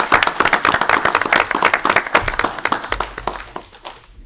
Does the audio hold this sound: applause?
yes